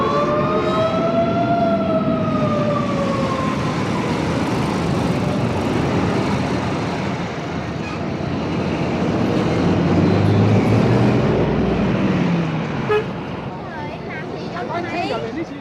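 Dense Saigon street traffic in 1966 roars steadily, with engines, a rising and falling horn-like wail, and scattered honks blending into one loud, busy wash.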